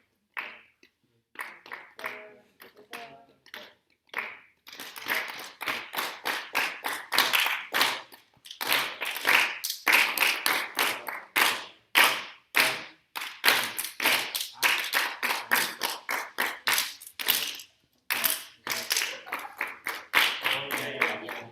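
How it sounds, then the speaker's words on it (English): A school band's students clapping their parts in rhythm, rapid sharp hand claps in steady patterned bursts with short pauses between phrases, loud and close, with faint voices counting underneath. "let's count and clap our parts from the beginning"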